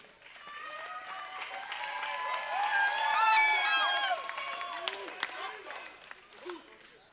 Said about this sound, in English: a big round of applause for these two champions